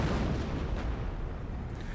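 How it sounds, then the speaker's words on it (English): A 25-pounder artillery barrage in Company of Heroes rumbles as a continuous rolling wall of low booms and blasts, loud and heavy, fading slightly toward the end with no voices heard. "Here comes the 25-pounder barrage."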